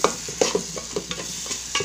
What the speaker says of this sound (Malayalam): നമുക്കിതൊന്ന് തുറന്നിട്ട് ഒന്ന് ഇളക്കി കൊടുക്കാം.